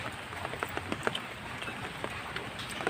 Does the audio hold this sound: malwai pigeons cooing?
no